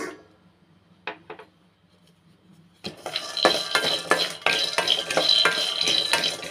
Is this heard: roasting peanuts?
yes